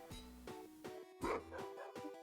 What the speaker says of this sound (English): You're such an angry dog.